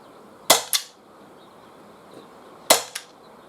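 A Walther PPQ M2 .43 caliber paintball pistol fires two quick pairs of sharp, snappy shots about two seconds apart, each crack trailed by a brief echo, with no talk.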